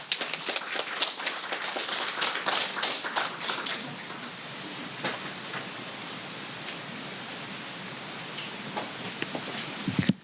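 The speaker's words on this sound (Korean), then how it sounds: "박수로 청해 주시기 바랍니다" An audience at the 2019 Jeju Forum session on East Asian women's peace movements applauds to welcome Professor Okazawa Rei, with brisk, dense clapping for about four seconds that then thins to a softer, scattered patter before a final burst.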